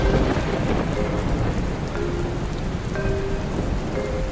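Steady rain falling on surfaces with deep rolling thunder beneath, a continuous dense wash of drops filling the whole stretch without any voices.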